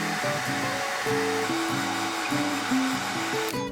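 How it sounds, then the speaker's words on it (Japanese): A hair dryer blows steadily and loudly up close while drying watercolor paint, a continuous whooshing roar that cuts off at the end. Faint musical tones play underneath. "絵の具を乾かします"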